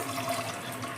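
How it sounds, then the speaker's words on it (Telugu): A steady, close rush of water pouring into a pot of brinjal and toor dal for cooking, continuous and fairly loud for its short length. "ఇంకా దీనికి సరిపడ వాటర్"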